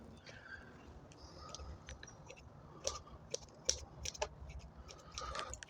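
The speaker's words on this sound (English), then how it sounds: "I'm going to trim some of these roots a little bit" Small scissors or shears snipping the roots of a bonsai tree during repotting, faint scattered clicks and crisp snips close by, a few sharper cuts clustered in the middle, no talk.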